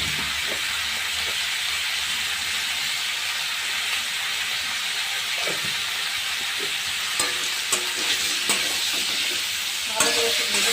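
Spices sizzling and frying in a pan for an egg curry, a steady loud hiss running throughout with scattered stirring scrapes and clicks near the end.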